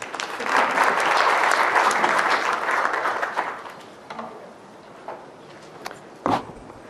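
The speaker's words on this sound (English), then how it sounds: "please give her a warm round of applause" Applause from a modest audience at a medical lecture session swells and then tapers off after a few seconds, leaving scattered claps and small room noises.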